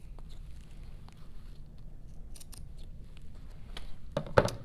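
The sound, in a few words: scissors trimming excess fabric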